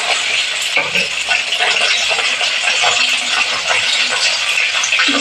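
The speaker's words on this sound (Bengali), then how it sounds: "কড়াইতে আমি তেল দিয়ে দিয়েছি, তেলটা আমার গরম হয়ে গেছে। এবার আমি আলুগুলো ভেজে নেব।" Potato pieces fry in hot oil in a kadai (wok) with a little salt, giving a loud, steady sizzle broken by scraping stirs and clinks of the utensil throughout, with no talking.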